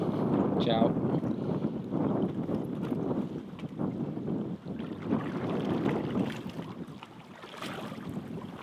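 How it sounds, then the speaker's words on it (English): Strong wind on Fulanga island in Fiji roars steadily across the microphone in loud, gusty buffeting, with voices faintly audible underneath. "Other than the crazy wind"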